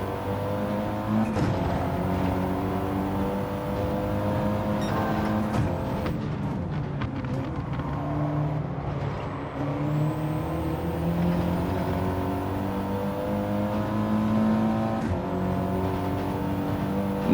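Audi TT Gr4 race cars in Gran Turismo 7 race closely together, their engines a loud, continuous drone that rises and falls as they shift gears and jostle for position, with brief sharper bursts as cars pass.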